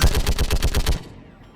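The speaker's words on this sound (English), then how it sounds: "the guns are already picking Cerberus ships out of the sky" Anti-aircraft guns in Mass Effect 3 fire a rapid, loud burst of about nine evenly spaced heavy shots at Cerberus ships, then cut off into a short fading tail.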